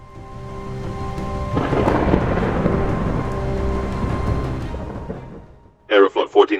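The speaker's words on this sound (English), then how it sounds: "It wasn't raining, but there was a significant thunderstorm within." Heavy thunder rumbles loudly for several seconds inside an airliner cockpit climbing through storm clouds, layered over a steady engine drone, before a voice speaks briefly at the end.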